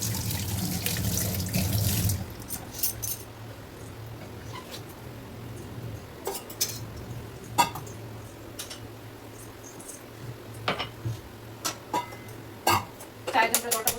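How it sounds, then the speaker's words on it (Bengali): Tap water runs into a pot being filled for tea in a home kitchen, a dense rushing gush for about two seconds, then stops and gives way to scattered clinks and handling knocks. "চায়ের জন্য জলটা বসিয়ে দিই।"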